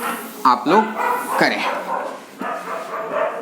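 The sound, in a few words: dogs barking at night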